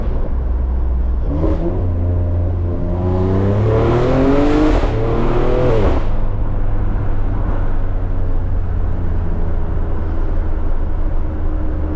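A catless, tuned BMW X3M engine revving hard, its steady drone climbing through several rising pitch sweeps, then settling back to a loud even cruising hum, heard close from inside the car.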